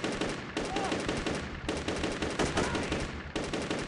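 Rapid gunfire from a budget PC shooter game, sustained bursts of shots repeating almost without pause over loud rave music, dense and continuous throughout.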